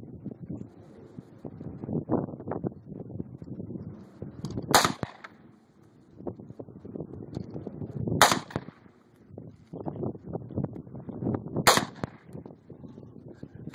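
Three sharp, loud gunshots from a KelTec .22 high velocity rifle crack at spaced intervals close by, over gusty wind noise and rustling outdoors.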